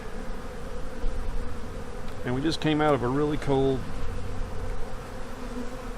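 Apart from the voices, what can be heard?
honey bees on a hive frame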